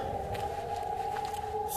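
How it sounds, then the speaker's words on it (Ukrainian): An air raid siren sounds over Kharkiv's Saltivka district on an October 2025 evening, a steady sustained wail holding one pitch throughout, moderately loud and continuous with no voices over it. "Вже ліхтарі темно, лунає повітряна тривога."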